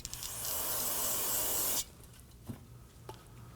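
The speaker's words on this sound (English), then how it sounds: "Spray it down with some solvent." Brake parts cleaner solvent hisses from an aerosol can onto the rear brake hose fittings of a Nissan Murano in one steady close burst of about two seconds, then stops, leaving faint workshop noises.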